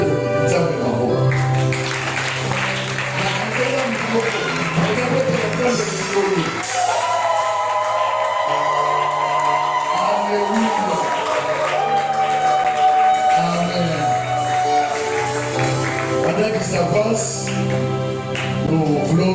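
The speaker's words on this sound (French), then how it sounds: "Nous voulons dire merci à Dieu par nos acclamations" A church congregation cheers and applauds loudly and steadily, with whoops, shouts and ringing voices blending into a continuous crowd roar.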